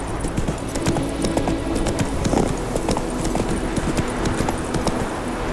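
The horse Roach gallops in The Witcher 3, a brisk run of hoof clip-clops under ambient game sound, close and moderately loud, with a brief voice cue amid the steady beat.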